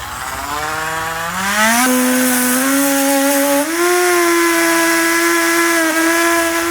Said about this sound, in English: I'm going to be using a rotary tool just so I can make some quick clean cuts